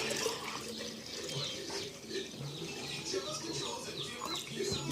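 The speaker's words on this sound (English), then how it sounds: "So this is the electrolyte water. I'm just going to pour it into our jar" Water with dissolved electrolytes pours from a 4-liter plastic milk jug into a jar, a soft continuous splashing and trickling heard close up, with faint chirping in the background.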